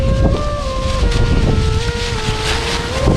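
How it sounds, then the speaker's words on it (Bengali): Strong wind by a river with a fast current on Monpura Island roars steadily into the microphone, with a faint motor-like drone running underneath throughout. "আর এখানে প্রচুর পরিমাণে বাতাসও"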